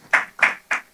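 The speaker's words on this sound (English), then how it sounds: "Please clap for that word." A church congregation clapping in three short, sharp bursts at a steady pace, fairly close and with nobody talking.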